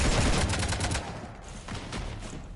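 Sustained automatic gunfire aboard a ship in the video game Mass Effect 3, loud, dense bursts for about a second, then thinner scattered shots continuing.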